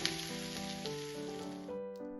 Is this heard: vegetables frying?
yes